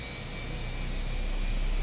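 Airbus A320 jet engines in the Fenix flight simulator game give a steady, loud, continuous whine and roar with a constant tonal hum, holding level without any talk.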